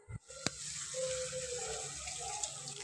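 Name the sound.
water poured into frying spice paste in a pan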